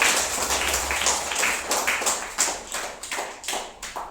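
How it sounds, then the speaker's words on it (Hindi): Children in a classroom clap for a classmate, a scattered burst of hand claps that grows into a more rhythmic, uneven patter with some louder individual claps near the end. "तालियां बजाओ उसके लिए।"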